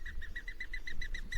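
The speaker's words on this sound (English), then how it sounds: "when a lot of doves take off, this is a mourning dove, they kind of make a whistling sound" Mourning dove wings whistling on takeoff: a rapid run of regular, high pulsing whistles, about a dozen evenly spaced beats, close and clear over a low rumble.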